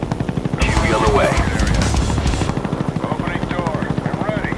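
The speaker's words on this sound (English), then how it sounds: "Huey on the way." A Huey helicopter flies in a video game, its rotor beating in a steady, rapid chop throughout. A burst of loud gunfire briefly covers it, and faint game voices sound in the background.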